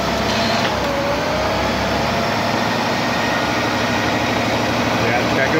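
Engine running steadily during a Ford AOD transmission dyno test, a constant loud drone with a low rumble, while someone talks over it.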